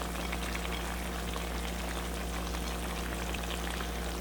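Sliced onions fry in a pan of oil while a malai chicken handi is cooked, giving a steady, dense sizzle with a low hum beneath it that holds constant throughout, close and even with no talking.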